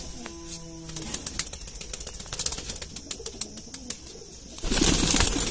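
High-flying Indian pigeons call with soft low coos, joined by rapid wing clapping and flapping, ending in a burst of louder wingbeat noise.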